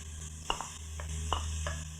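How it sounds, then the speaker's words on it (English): Onions sizzle steadily in a hot pan, with a few sharp clinks of a utensil stirring against the metal, and chopped red pepper added. "So the onions, you can hear, are sizzling away."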